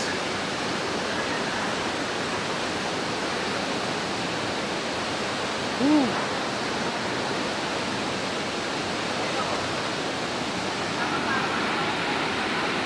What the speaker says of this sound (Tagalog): Okay, dito na kami sa Palali Falls.